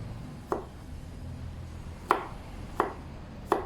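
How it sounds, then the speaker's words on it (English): A knife strikes a cutting board as garlic is minced, four sharp, separate chops spaced unevenly over a quiet background, close by with no talking. "And then your garlic, and then you mince it a little"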